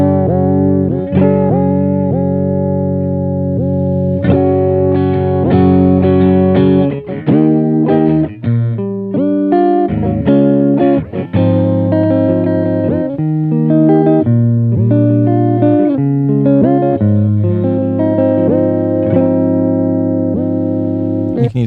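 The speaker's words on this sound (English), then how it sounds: "a cool way to set it to get some warped record sounds" An electric guitar plays chords and melody through a Chase Bliss Audio Warped Vinyl pedal, a pitch-wobbling effect that bends notes up and down like a warped record, loud and clear.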